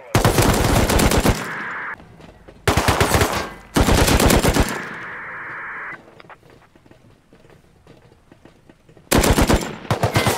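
Automatic gunfire from a gun in the survival video game Rust, loud close bursts of rapid shots broken by pauses, with quieter game ambience between the volleys.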